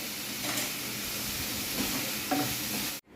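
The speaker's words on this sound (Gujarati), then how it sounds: "these onions are getting sauteed" Onions sautéing in oil in a pan: a steady close sizzle and hiss with faint stirring scrapes, ending abruptly.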